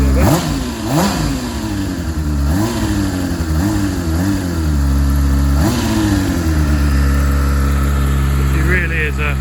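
A low-mileage Honda Hornet 600 motorcycle fitted with a Scorpion exhaust, revved repeatedly from idle in sharp close-up blips that rise and fall, with a steady rumble between throttle bursts.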